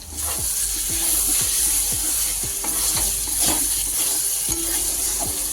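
Masala paste with a little sugar sizzles in hot oil, a constant bright hiss broken by regular scraping strokes of a spoon stirring through the pan, close and fairly loud.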